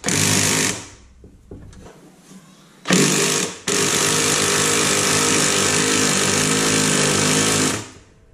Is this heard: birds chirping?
no